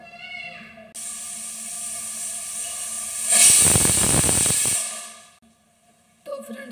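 Pressure cooker on a gas stove cooking matar pulao, letting out a steady high whistle that swells into a loud rushing hiss of escaping steam for a few seconds before cutting off.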